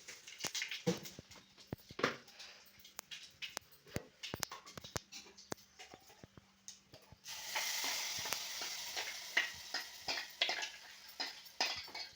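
Mustard seeds and cumin frying in hot oil, with scattered crackles and pops early on and then a louder, steady sizzle taking over for the last few seconds.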